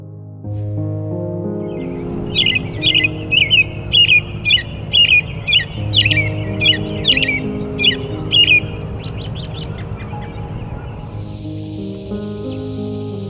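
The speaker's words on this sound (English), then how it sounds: "Crow out there has a voice." A crow calling outdoors, a run of about a dozen harsh, evenly spaced caws over a steady low background hum, fading out near the end.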